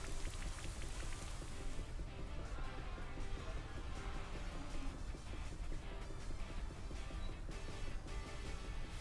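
Steady, dense rain patter with a hissing wash throughout, synthetic Pokémon game rain from Rain Dance, continuous and moderately loud with no pauses.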